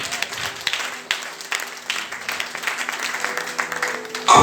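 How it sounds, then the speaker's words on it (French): A church congregation claps and cheers in acclaim during a sermon, a crowd of uneven hand claps building in bursts over a few seconds, with a voice cutting in at the very end. "Acclame le Seigneur."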